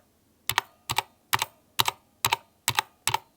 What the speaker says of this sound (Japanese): ちょっとマイク持ってきたんでこのキーの音を聞いてほしいんですけど、 真ん中のキーはこういう感じで